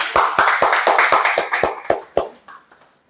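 A small group at a church fellowship sermon claps in unison, about ten sharp, evenly spaced claps that slow and thin out toward the end, with a few scattered claps trailing off.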